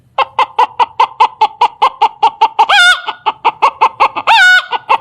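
A human voice mimics a hen clucking as she lays an egg, with a quick, even run of loud clucks broken twice by a drawn-out squawking cackle, all close and alone.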